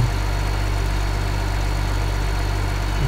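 A tractor engine idling in Farming Simulator 15, a steady loud low rumble with constant hum and no variation throughout.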